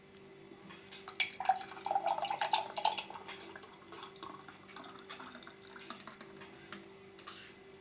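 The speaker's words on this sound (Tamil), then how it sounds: "இப்போ வாங்க நம்ம கிளாஸில் ஊற்றிக்கலாம்." Muskmelon milk juice with soaked sabja seeds is poured into a glass, giving soft liquid splashing and trickling with light clinks of glass and utensils in a quiet kitchen.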